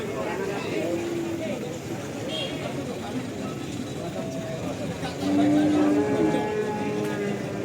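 Limousin cattle at a livestock market before Lebaran, low mooing calls rising over the steady background chatter and bustle of the market, with a louder, drawn-out moo near the end.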